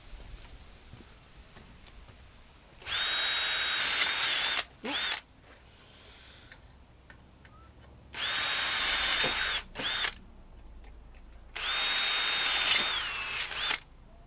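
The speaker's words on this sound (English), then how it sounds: "these are the only pop rivets on the car, I got to drill them out" A power drill whines in several bursts, starting and stopping repeatedly as it drills out pop rivets on a Morris Minor heater, with quiet pauses between runs.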